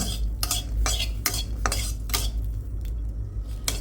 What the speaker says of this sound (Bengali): আমি এখানে হলো একটু মরিচ চালতেছি বাদাম ভর্তা বানানোর জন্য